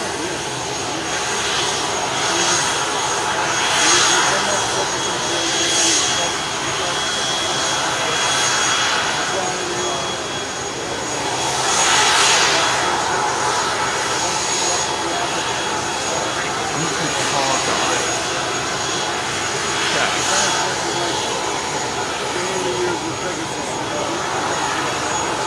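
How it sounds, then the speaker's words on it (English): An F-35 fighter jet flies at the Paris Air Show 2023, a steady broadband jet roar with swelling passes that peak near the start and middle, with voices faintly present. "F-35, I believe."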